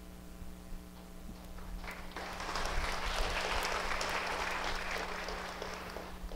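Audience in a church breaking into applause, a dense wash of clapping that swells after a couple of seconds and holds steady over a low constant hum.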